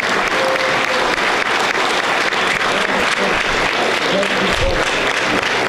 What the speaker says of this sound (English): Round of applause for Ευριπίδης and Ευαγγελία Κοντος